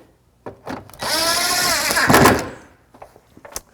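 A Ridgid power drill set to its lowest clutch setting drives fasteners during a BMW X2 (F39) amplifier install, one steady whirring run of about a second and a half, close and loud, with small clicks and handling noises before and after.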